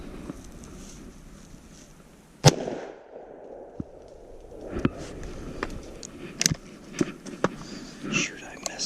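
A single sharp gunshot rings out while squirrel hunting in the woods, loud and close, followed by quieter rustling and soft clicks.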